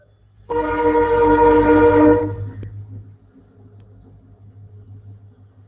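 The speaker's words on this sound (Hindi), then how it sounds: "1 मिनट, ट्रेन जा रही है।" A train's horn sounds loud and sustained for about two seconds, then fades, leaving a low rumble of the passing train underneath; a steady hum continues throughout and nobody speaks.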